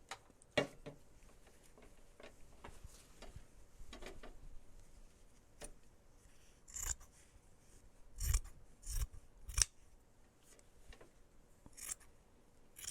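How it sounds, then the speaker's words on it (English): Scissors cut roughly through a large piece of fabric on a desk, giving soft, scattered snips and rasping rubs at close range, with a few louder cuts near the middle and no talking. "I'm just going to roughly cut it along here."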